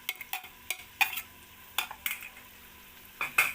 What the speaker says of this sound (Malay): Dengan lada hitam juga. Kita tumis je sekali.